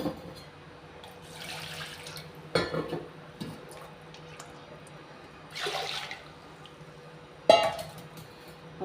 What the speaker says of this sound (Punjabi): ਲੋ ਜੀ ਪਾਣੀ ਆਪਾਂ ਨੇ ਪਾ ਲਿਆ